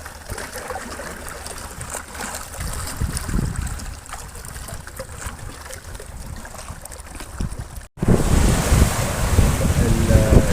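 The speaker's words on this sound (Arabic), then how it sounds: "الريح شد والبحر شد" Steady rush of strong wind buffeting the microphone over rolling sea waves, loud and continuous, with the roar growing heavier near the end.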